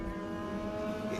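A Legend race car, No. 28, runs at Citrus County Speedway during the Winter Nationals with a steady, buzzing high-revving engine drone, sustained and fairly close for a moment.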